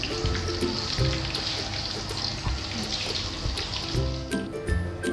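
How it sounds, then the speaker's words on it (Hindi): Coated chilli chicken fries in hot oil with a continuous close sizzle and crackle, dotted with sharp pops and spits throughout. "अब इसको गरम ऑयल में डालें।"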